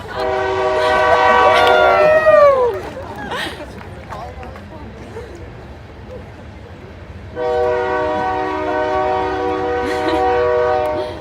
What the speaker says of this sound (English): I was instructed to wait for the train.